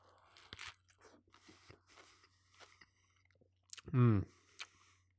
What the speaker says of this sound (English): I like the cucumber texture because it adds the crunch